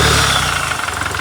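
A Toyota Fortuner SUV engine idles with a steady, rumbling drone, close and fairly loud, with no talking.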